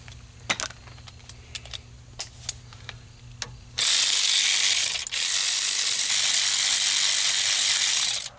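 Hand ratchet turning a 14 mm brake caliper bolt on a 2014 Ford F-150, a few scattered clicks and taps followed by a long, loud, fast steady ratcheting buzz with one brief pause.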